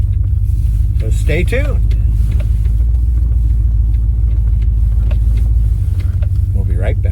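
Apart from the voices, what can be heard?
1997 Land Rover Discovery 4-liter engine car driving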